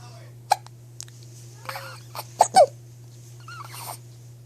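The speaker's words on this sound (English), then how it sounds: "Hiccup." A small dog hiccuping repeatedly indoors, several short sharp hiccups spaced irregularly and close by, with a person's voice heard briefly between them over a low steady hum.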